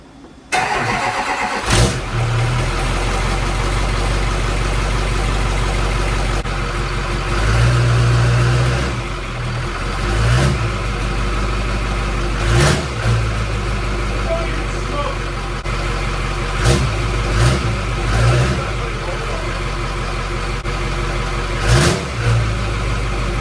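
A Duramax diesel engine in a 1000 HP build cranks, starts and settles into a loud, steady running rumble close by, with occasional rev blips and people talking over it.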